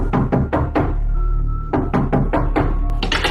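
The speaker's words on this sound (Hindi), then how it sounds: "बाहर दरवाजे पर हो रही थी दस्तक" Knocking on a door as a horror story sound effect: loud, close series of heavy knocks in two bursts of three or four raps, separated by a brief pause, over a low rumbling background.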